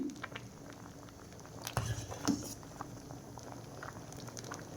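Payesh, a milky Bengali rice pudding, simmers in a pot with soft, steady bubbling and occasional louder pops, quiet and close.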